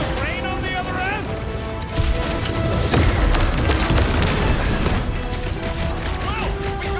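Fireworks explosions in the video game Marvel's Guardians of the Galaxy, a dense loud barrage of booms and crackling bursts with mechanical clatter and game music, while characters shout over the action.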